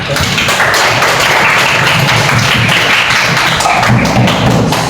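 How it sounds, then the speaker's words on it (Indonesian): Classmates applaud at the close of a grade 8 lesson, a dense, loud, continuous patter of clapping filling the room with no talk over it. "Aplaus dulu untuk"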